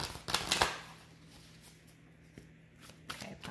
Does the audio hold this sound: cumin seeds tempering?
no